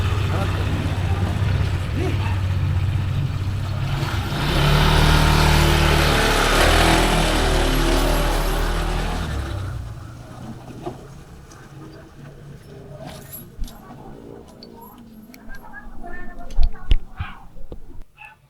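Honda PCX 160 scooter engine on a test ride after an ignition coil fix, a steady loud drone with low engine tones for about nine seconds, then dropping to quieter road and handling noise with scattered knocks and clicks.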